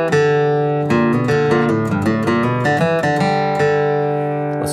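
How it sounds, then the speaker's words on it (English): Acoustic guitar flatpicked in bluegrass style, playing the Cripple Creek melody and then a quick bluegrass lick, with clear, close, steady picked notes and ringing strings throughout, no talking. "two measures melody, two measures of bluegrass lick"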